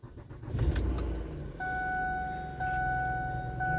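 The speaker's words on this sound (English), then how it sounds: "I haven't started this car in several months. So let's see how it starts." A 2008 Lincoln MKZ, unused for several months, cranks and starts, settling into a steady idle; a sustained two-tone electronic chime sounds over the running engine.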